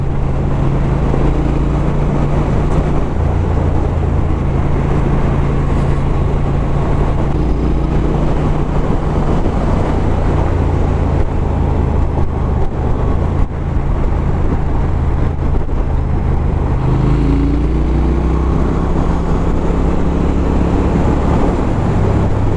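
Triumph Thruxton R motorcycle engine running steadily for over twenty seconds, a loud, continuous low rumbling drone with shifting pitch as the bike rides, close to the microphone and with no talking over it.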